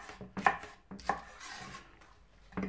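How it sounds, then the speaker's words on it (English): Spring onion green tops are cut into centimetre pieces on a board, giving several distinct knife chops spaced out over a couple of seconds, close and fairly crisp, with no talk. "Want to cut those into about centimetre pieces."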